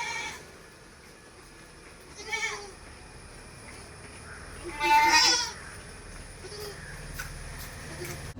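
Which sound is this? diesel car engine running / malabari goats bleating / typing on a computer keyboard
malabari goats bleating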